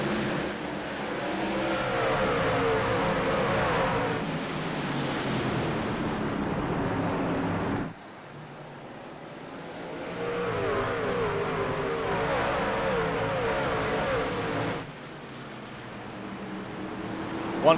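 Racing trucks in a video game accelerating together at a restart on the Martinsville track, a loud sustained engine roar in long surges with brief dips between pushes.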